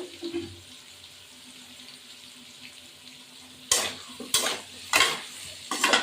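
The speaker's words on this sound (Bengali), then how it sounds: "এবার এটাই নাড়া দেবো" Cumin and coriander powder being stirred into a thin curry of ridge gourd and prawns, a quiet simmering background broken by four loud scraping, sizzling stirring bursts in the second half, close and without talk.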